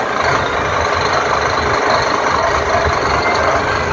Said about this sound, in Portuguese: Olha o caminhão, ó.